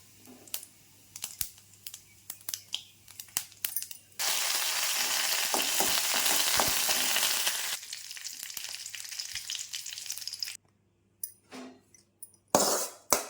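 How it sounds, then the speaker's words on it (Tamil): Mustard seeds tempering in hot sesame oil, left in the pan used to sauté pirandai for chutney: steady loud sizzle and crackle with scattered pops, easing off, then sharp clinks and scraping near the end. "நல்லெண்ணெய் ஊற்றிருக்கிறேன், கடுகு போட்டிருக்கிறேன்"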